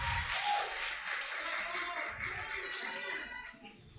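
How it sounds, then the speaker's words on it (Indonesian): Audience at a public discussion event clapping steadily for a student being introduced, a sustained patter of many hands that thins toward the end, with a little background chatter mixed in. "Kita beri tepuk tangan."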